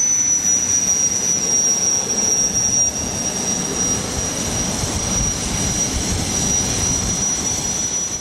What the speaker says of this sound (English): Brian Binney increases power to the twin jet engines of White Knight and releases the brakes.